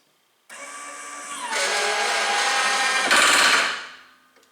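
Electric lift motor on a riding mower raising the cutting deck, a steady whirring drone that starts abruptly, rises in pitch and strain partway through, then winds down and stops, close and alone.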